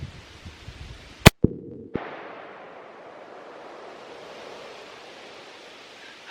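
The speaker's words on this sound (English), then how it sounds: "for the 270 we're shooting 150 grain" A single sharp, loud .270 rifle shot with 150 grain ammunition cracks outdoors while sighting in on steel targets, followed by a short echo and then quiet wind-like background noise.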